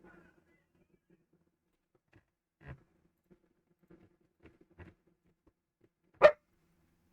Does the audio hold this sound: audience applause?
no